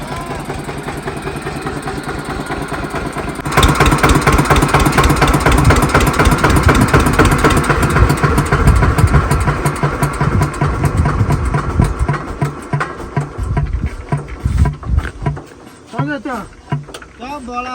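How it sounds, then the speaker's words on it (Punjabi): A loud engine rumbles close by, chugging and revving unevenly, with people talking over it at times. "ਗਾਰੇ 'ਚ ਟਰੈਕਟਰ ਲਵੇੜੀ ਜਾਂਦਾ"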